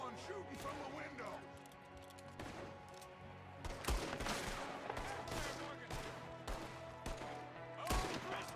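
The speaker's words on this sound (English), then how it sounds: "There's another one shooting from the window." Gunmen shoot from a window during an ambush in Red Dead Redemption 2, with repeated sharp gunshots and bursts of rapid fire over a tonal background and scattered game voices.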